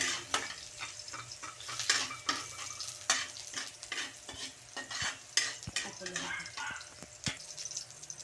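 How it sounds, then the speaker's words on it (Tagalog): Garlic sautés in a hot pan for chicken teriyaki, with a constant sizzle and repeated scraping and clinking of a spatula stirring against the pan, close and busy. "gisa na rin natin yung bawang"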